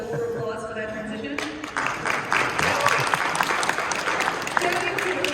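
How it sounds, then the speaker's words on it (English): Applause from a crowd at a PAX East 2023 panel on Vtubing swells after a brief sung or musical tone at the start and continues as steady clapping under faint talk. "I will hold for applause for that transition."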